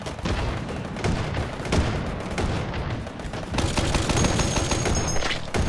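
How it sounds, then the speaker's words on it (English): Gunfire in the VR shooter Hot Dogs, Horseshoes & Hand Grenades crackles almost nonstop, dense rapid bursts with heavier booming shots mixed in, loud and close, with no voices over it. "who's shooting at me"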